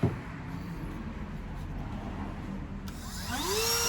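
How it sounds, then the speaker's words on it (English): A Dremel rotary tool works a piece clamped in a vise. A quiet room hum comes first, then the tool spins up with a sharp, rising whine in the last second. "Let me use the vise and the Dremel."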